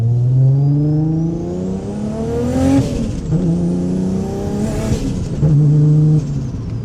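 Heard from inside the car, a Nissan R32 GT-R with its RB26 engine and a suspect turbocharger revs hard through several gears. Rising engine pitch climbs with each pull, breaks at the shifts and carries a faint turbo whine, loud and close.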